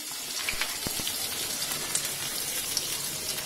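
Chopped onions and green chillies frying in a pan of hot oil with tempering seeds for a raw banana curry, giving a steady, close crackling hiss with scattered sharp pops throughout.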